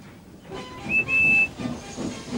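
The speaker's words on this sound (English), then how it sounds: "Billy puffed to the junction near Edward's station." Animated steam engine from Thomas and Friends on a railway, giving a steady hissing chuff with a sharp, brief steam whistle blast in the middle, up close.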